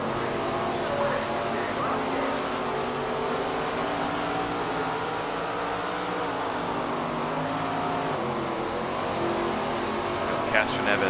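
Race cars circling Stafford Motor Speedway in SRX: The Game give off a steady, droning engine roar with shifting pitch throughout, while someone talks over it continuously.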